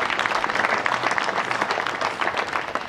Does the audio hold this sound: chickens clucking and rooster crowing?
no